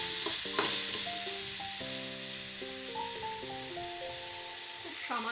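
Raw pumpkin sautés with cumin powder in a hot pan, giving a steady broadband sizzle with a few soft stirring scrapes, heard under continuous melodic background music.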